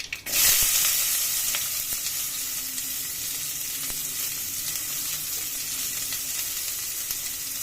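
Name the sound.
onion sautéing in oil with spluttered mustard seeds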